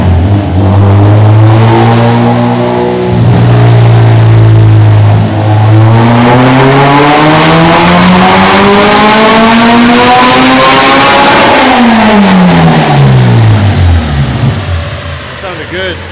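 A Honda Integra with a K20Z3 engine revs on a dyno, a loud, close howl sweeping up from a low drone to a high scream, then dropping back down as the throttle closes.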